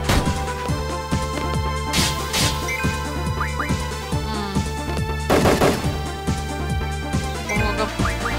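Gunshots from a pistol in the video game Final Fantasy 8, in a battle against a dragon: repeated sharp shots in quick succession over game music, with heavier bursts partway through.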